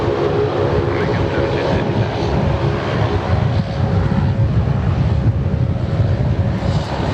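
An airliner taxis toward runway 34 right at Sydney Airport, a steady, even engine drone with a low rumble held at constant level throughout.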